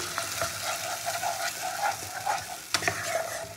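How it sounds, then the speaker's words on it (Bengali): Tomato paste goes into a pan of frying masala for katla fish curry, raising a loud, close, continuous sizzle with scraping stir strokes and a sharp clank near the end, and no voices. "এবার দেবো আমি টমেটো বাটা।"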